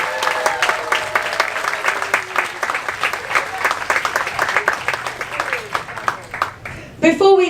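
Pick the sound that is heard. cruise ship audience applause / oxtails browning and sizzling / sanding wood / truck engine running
cruise ship audience applause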